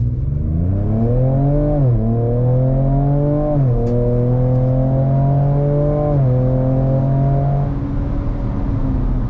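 A Ford Ranger Raptor with a Ford Performance tune accelerates hard from 0 to 60 mph, its engine note climbing loudly and dropping at three distinct upshifts before easing off near the end.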